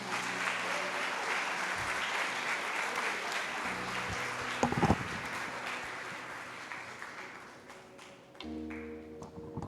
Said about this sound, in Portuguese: Vocês podem aplaudir pela vida dos dois?